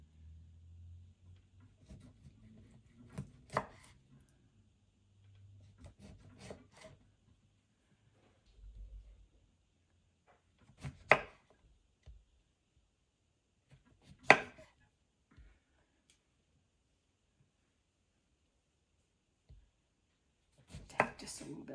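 A knife slicing washed lemons into rounds on a cutting board, a few sparse crisp chops separated by quiet pauses, close and fairly faint.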